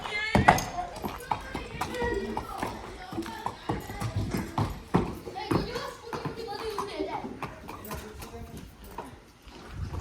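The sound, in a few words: mare's hooves clip-clopping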